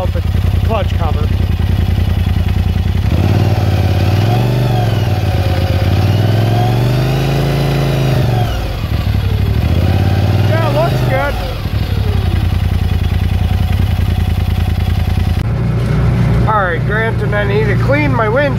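Off-road 6x6 buggy engine running with its clutch cover removed, revving loudly and continuously with rising and falling pitch, close and dominant throughout, with voices talking over it in the dunes.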